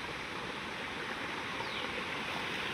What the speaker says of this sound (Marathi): हा ओढा चालला पुढे बघा.